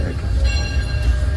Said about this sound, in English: that is an authentic steam locomotive up there